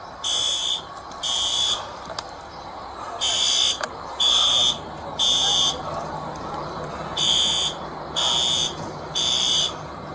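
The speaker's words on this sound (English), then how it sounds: "that alarm is annoying though" An electronic fire alarm buzzes in loud, evenly spaced beeping pulses, each lasting about a second, over a steady background of room noise and faint voices.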